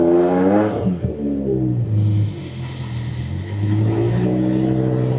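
A car engine revs up loudly right after a NOCO Boost HD jump start, the pitch dipping and climbing again as the throttle is worked; no voices.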